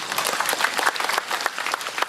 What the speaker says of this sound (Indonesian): Tepuk tangan tuh Pak Bupati